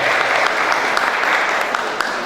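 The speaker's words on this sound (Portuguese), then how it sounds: "Uma salva de palmas para os convidados da mesa." Applause for the guests at the head table during an agroecological sparkling wine and wine event in São Roque, SP, a dense, steady crowd clapping at full level throughout.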